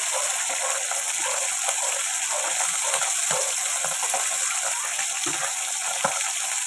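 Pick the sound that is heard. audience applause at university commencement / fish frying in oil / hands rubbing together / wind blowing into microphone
fish frying in oil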